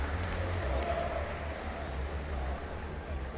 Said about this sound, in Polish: gorące brawa, Maciej Różański!